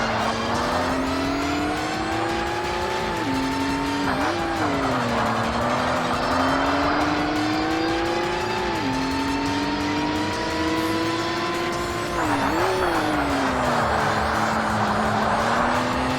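A Honda NSX race car in the Forza Motorsport video game roars steadily at high revs, pitch climbing and dipping through gear shifts, with brief tire squeals and a loud, continuous engine drone throughout.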